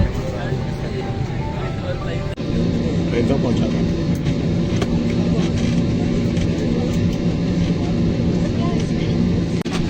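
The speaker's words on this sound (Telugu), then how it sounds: "ఫ్లైట్ అయితే వెళ్తుంది. ఇప్పుడు ఆల్రెడీ మూవ్ అవుతుంది." A steady low engine rumble and hum fills an airplane cabin as it taxis at Abu Dhabi airport, with faint background voices.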